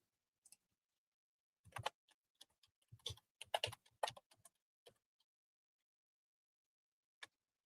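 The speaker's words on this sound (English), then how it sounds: "I guess that would be easier just to type it in again." Keys tapped on a computer keyboard during a live sale, a short irregular burst of clicks close by and quiet, then a pause and one final keystroke.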